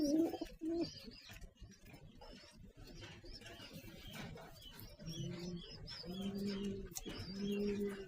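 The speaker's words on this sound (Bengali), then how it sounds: "দেখতে পাচ্ছেন একটি খাকি কবুতর" A male khaki pigeon coos in repeated low, throaty phrases, close and fairly soft, with faint chirps from other birds in the background.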